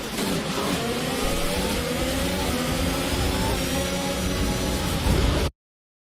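Formula 1 car engine on board with Carlos Sainz in F1 2021 at Jeddah, Saudi Arabia: a loud, sustained high-revving whine with rising gear sweeps, constant and close, cutting off abruptly near the end.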